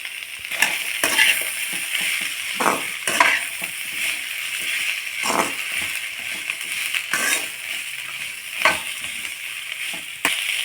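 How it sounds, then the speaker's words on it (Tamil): A handful each of coriander and mint leaves sautéing in a pan, a bright hissing sizzle punctuated by repeated scraping strokes of a spatula, moderately loud and close, without talk. "அதையும் போட்டு நல்லா வதக்கிக்கலாம்"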